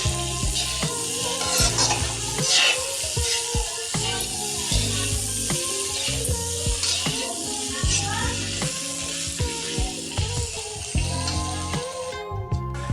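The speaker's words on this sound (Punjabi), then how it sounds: "ਹੁਣ ਅਸੀਂ ਇਹਨੂੰ ਥੋੜਾ ਜਿਹਾ ਹੋਰ ਭੁੰਨਦੇ ਆ ਜੀ" A pan sauce for white sauce pasta, with coriander powder added, is stirred and roasted. Frying crackle runs under repeated knocks and scrapes of the spoon against the pan while a person talks over it.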